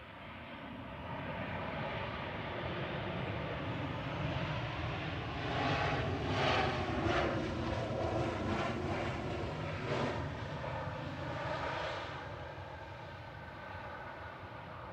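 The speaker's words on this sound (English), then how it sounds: "So just coming over the threshold is Jet2." A Jet2 Boeing 737-800 airliner crossing the runway threshold on landing at Manchester Airport, a steady loud engine roar and whine that swells in the middle and then eases off as it passes.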